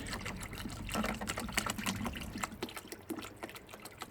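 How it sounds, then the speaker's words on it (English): Water with cleaning chemical sprayed on a patio in steady, hissing bursts close by, with a wet, pattering texture and no voices. "I'll just give that a little spray"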